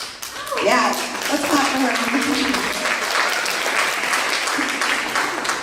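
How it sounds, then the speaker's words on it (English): An audience at a Los Angeles event bursts into steady applause that builds and holds across the room, with voices and cheers mixed in. "let's clap for her"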